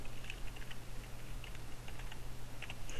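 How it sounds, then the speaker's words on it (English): Keys on a computer keyboard clatter in quick irregular bursts while a host name is typed for a Sharp scan-to-folder setup, fairly faint over a steady low hum. "I'm going to go ahead and type my computer's host name."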